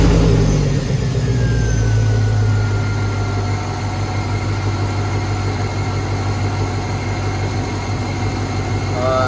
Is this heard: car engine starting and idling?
yes